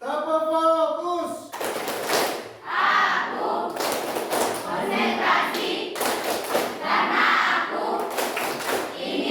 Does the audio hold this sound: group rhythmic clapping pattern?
yes